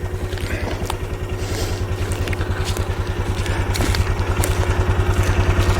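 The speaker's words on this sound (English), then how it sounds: "So I got the mule over there. We'll put the strap over the hitch and give it a pull and see if I can roll that log over." A Mule utility vehicle engine runs in four-wheel drive low, a steady pulsing low rumble with rhythmic throbbing that grows slightly louder as it strains against a strap hitched to roll a pine log.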